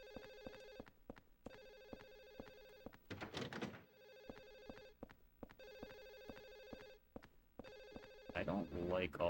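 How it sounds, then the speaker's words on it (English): A telephone rings repeatedly in Silent Hill 4: The Room, with regular electronic ring bursts separated by short gaps and some muffled thumps and noise between them. "There's a noisy phone."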